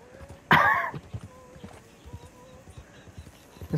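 Stagecoach horses plod along in the Red Dead Redemption 2 video game, with soft rhythmic hoof clops, a sharp burst of noise early on, and faint background tones.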